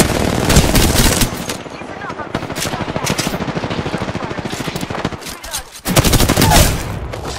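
Sustained automatic weapon fire in Apex Legends, loud and near, a long rattling stream of shots with a brief pause before another heavy burst, game voice lines faintly beneath.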